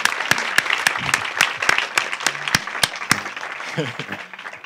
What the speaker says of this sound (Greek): Ένα χειροκρότημα, γιατί εμείς καθόμαστε, εκείνη είναι όρθια.